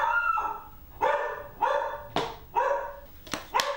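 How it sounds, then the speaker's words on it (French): An excited dog barks about six times in quick succession, sharp and close, with short pauses between the barks and no other sounds around them. "Mon chien qui s'emballe."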